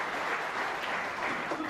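A crowd at a snooker World Championship match applauds in a steady, dense wash of clapping that stays even in volume throughout.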